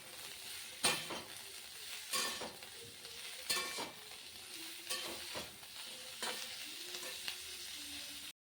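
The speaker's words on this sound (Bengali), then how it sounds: "ফুলকপি, গাজর, ক্যাপসিকাম ভেজে নিচ্ছি।" Cauliflower, carrot and capsicum frying in a pan, a steady sizzle broken by several scraping stirs and occasional light clinks of utensil on metal, close and moderately loud with no talking.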